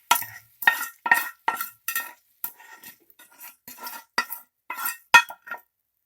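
A spoon scrapes and taps against a pot as fried snake gourd mixture is added to cooked chana dal, a dozen or so quick, close metallic clinks in an irregular rhythm with quiet gaps between.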